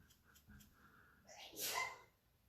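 A person sneezes once, a sharp burst of breath heard close by, coming after a few soft sounds in an otherwise quiet indoor space.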